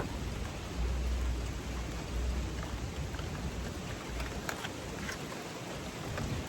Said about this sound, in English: wait for the rain to stop in 10 or 15 minutes